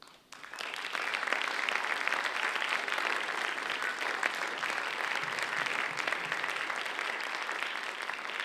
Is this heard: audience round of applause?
yes